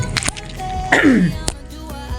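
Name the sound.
cough, throat clearing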